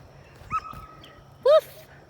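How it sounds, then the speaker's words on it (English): Puppies outdoors in a garden give two brief, high whimpering yips about a second apart, fairly close, over a faint steady background hum. "See the puppies? They're out here with us."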